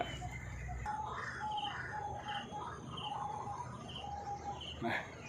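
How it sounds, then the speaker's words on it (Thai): A white-breasted waterhen calls repeatedly, a steady run of harsh, evenly spaced notes over morning outdoor ambience at a lotus garden, with a faint sharper chirp near the end. "เสียงนกกวัก"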